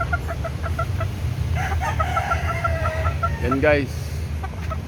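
Chickens cluck in short repeated bursts and a rooster gives a crow near the end, all close by in a small backyard poultry pen, with someone speaking briefly over the birds.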